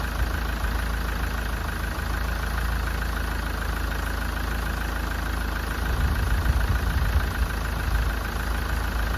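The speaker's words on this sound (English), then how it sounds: "We're just going to shut the engine off." Car engine idling steadily during a head gasket combustion-leak test, a continuous low rumble with a slight rise in level near the end, heard alone with no talk.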